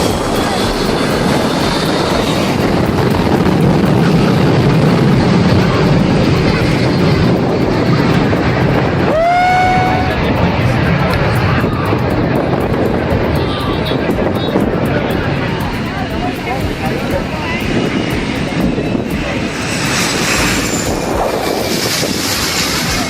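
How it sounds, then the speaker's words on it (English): A jet aircraft's blast during takeoff roars as a loud, continuous rushing wind, broken by a brief rising whine partway through, with voices talking over the noise. "This video captures the raw force of a jet blast during takeoff"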